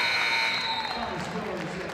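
End-of-game buzzer at a women's college basketball game, a loud sustained electronic tone sounding right away and fading into crowd noise and applause.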